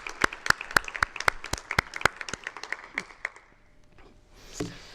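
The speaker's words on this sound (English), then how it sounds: "let's just give a round of applause right now for all of our sponsors" Sponsors receive applause from a conference audience at a day-one welcome session, with sharp scattered claps that thin out and fade over a few seconds.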